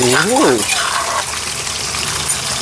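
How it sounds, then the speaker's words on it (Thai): Nam prik ong chili paste, a northern Thai mix of pork and sour tomato, stir-fried in a hot pan: a loud wet sizzle and scraping stir, close up, with a voice briefly at the start. "น้ำพริกอ่องครับใส่ลงไปคั่วเลย"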